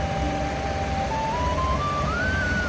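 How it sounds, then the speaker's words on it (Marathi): A car engine runs steadily after starting, a continuous loud low drone with a faint whine rising slowly in pitch, no voices. "गाडी स्टार्ट केली."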